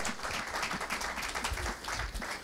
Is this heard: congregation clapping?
yes